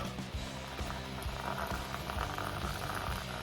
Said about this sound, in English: Cover it in boiling water.